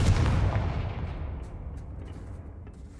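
A Confringo spell blast in Hogwarts Legacy lands as a loud, booming burst at the start, then trails off into a long, rumbling decay with no voices over it.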